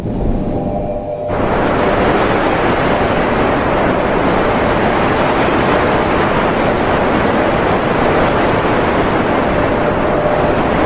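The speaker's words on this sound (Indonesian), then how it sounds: "Ini adalah suara tiupan angin kencang." Strong wind blows in a steady, loud, broadband roar that rushes in after a brief quieter start and continues without letup, with no voices.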